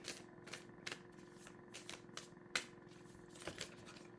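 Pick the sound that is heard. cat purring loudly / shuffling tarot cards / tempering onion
shuffling tarot cards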